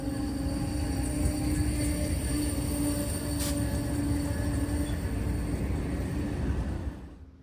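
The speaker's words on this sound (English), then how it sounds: "Amtrak 40, better known as the Floridian, runs from way down south of Miami, Florida to Chicago, Illinois" The Amtrak 40 Floridian passenger train rumbles past a station platform at Elkhart with steady rolling wheel noise and faint squealing tones, close and continuous before fading out at the end.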